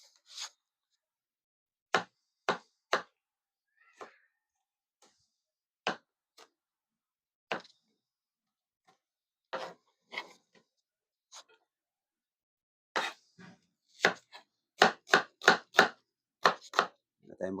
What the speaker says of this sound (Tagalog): hihiwain natin na medyo manipis to kasi igigisa natin siya